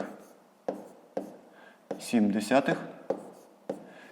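Numbers are written out for a long division problem as a series of short, crisp strokes at a regular pace, with a brief voice speaking in the middle.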